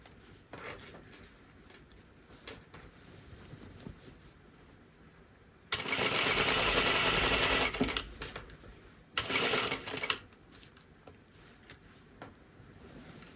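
A home sewing machine stitches fabric in two loud bursts, one of about two seconds and a shorter one after it, with quieter handling sounds in between.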